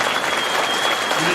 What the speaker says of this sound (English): Let's give all of our honor graduates a big round of applause